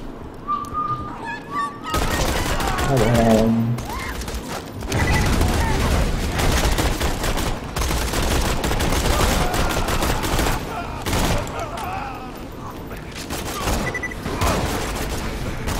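Machine gun fire in the Borderlands 2 video game, bursts of rapid shots and explosive booms repeating over about fourteen seconds, loud and dense, with game effects and a voice talking over the shooting.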